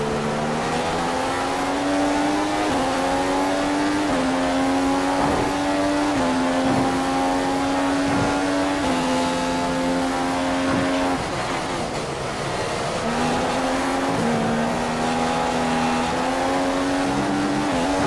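A Formula 1 race car engine in a PC racing video game drones steadily at high revs, shifting pitch up and down as gears change, loud and continuous throughout.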